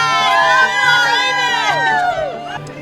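A crowd at a charity cancer walk cheers and whoops loudly and close by, with excited shouting voices overlapping in a continuous burst that trails off toward the end.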